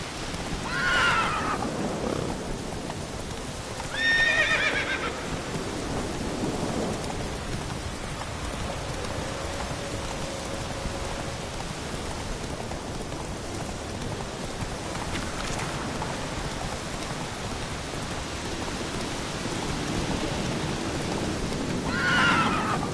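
Horse Roach neighing in The Witcher video game, whinnies rising over steady rain with distant thunder, a few separate calls spread through a stormy ambience.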